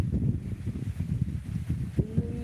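Low, gusty wind in the rain buffeting the microphone in a continuous rumble, with rustling texture and no clear voices.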